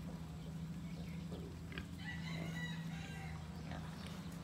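A Pampanga Native and Quezon Black mix rooster calls with a crowing, clucking cry around the middle, moderately near, over a steady low farm hum and faint background fowl noise.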